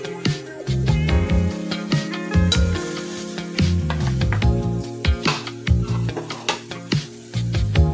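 Water dries off in a hot wok (kadai) with sharp crackles and spitting pops in uneven bursts that sound close and loud, and the bursts are separated by short quieter gaps.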